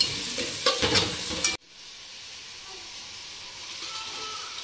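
Fried tomatoes with turmeric powder are stirred in a pan for bitter gourd tamarind kulambu: a brief burst of loud scraping and stirring, then a steady, softer sizzle of frying.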